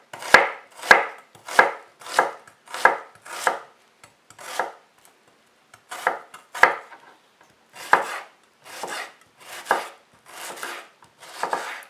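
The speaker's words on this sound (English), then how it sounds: "So now we are going to cut the onion." Knife chopping an onion on a cutting board for a cabbage stew, a series of crisp close chops in uneven bursts with short pauses, loud and dry, no voices.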